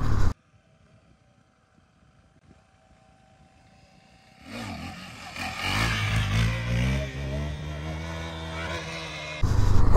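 A KTM Duke 390 motorcycle revs up hard for wheelies after a quiet stretch, the engine note rising and climbing in pitch and loudness from about midway, nearby, with no talk.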